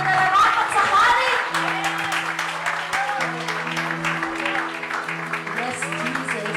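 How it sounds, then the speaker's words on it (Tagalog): A church congregation claps loudly during a worship service, dense applause running throughout while a voice and sustained music tones carry over it. "Isang malakas po ng palakpak na nararapat sa hari"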